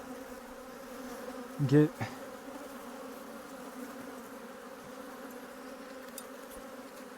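Honeybees buzz around a hive opened for inspection, a soft continuous hum with a brief louder tone near the start and a faint word spoken.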